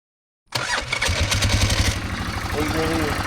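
An old, cheap 4x4 ATV engine with a rough-running fault catches and settles into a steady, loud, close idle with a chugging pulse, a voice briefly audible over it.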